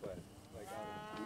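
Cattle on a working range ranch low out over a steady outdoor background, a few drawn-out moos running through the short stretch at moderate distance.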